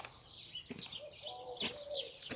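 Pigeons coo outdoors over a faint background hum, with soft low cooing notes and a few higher chirps from other birds, distant and quiet.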